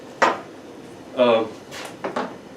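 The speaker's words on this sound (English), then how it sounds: "Okay, so we just want to stir it in." A utensil stirs cornmeal into a pot of hot bourbon mash, making a few distinct metallic clinks and a short rasping scrape against the pot, spaced apart with quiet gaps.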